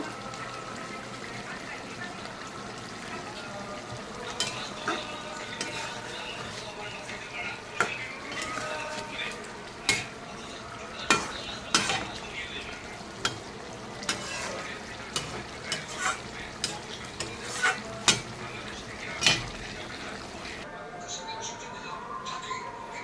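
A spoon stirring cauliflower and potato curry with catla fish and a sprinkle of garam masala in a pan, repeated scraping clinks and knocks against the metal over a low continuous sizzle, a voice speaking now and then.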